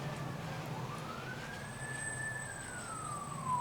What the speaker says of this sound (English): So sometimes the ambulance leaves from here